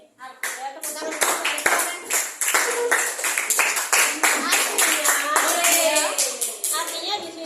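Schoolchildren in a classroom clap their hands in a loud, fast, fairly rhythmic burst that lasts several seconds, with children's voices calling out over the clapping.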